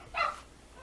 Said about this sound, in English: excuse my dog for barking because he cannot stand me to do anything